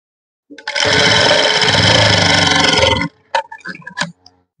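A sewing machine stitches a salwar in a close, loud burst of fast, even whirring that lasts about two and a half seconds, then gives a few short stop-start bursts.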